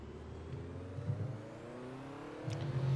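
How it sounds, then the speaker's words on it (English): A Ferrari V8 in the Assetto Corsa racing game on the Imola circuit, a steady engine drone that swells as it revs higher near the end, moderately loud and alone. "that sounds like a V8 Ferrari"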